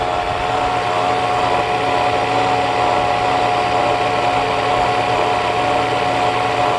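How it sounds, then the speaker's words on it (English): Steady engine idle from a Mercedes S600 coupe with rotten wiring and occasional misfires, a constant loud hum with a fixed tonal whine that runs unbroken throughout, with no distinct stumbles standing out. "I do still hear some misfiring going on from time to time"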